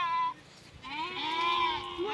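Goats in a village give two wavering, nasal bleats nearby, a short one followed by a longer, rising cry, with people talking around them.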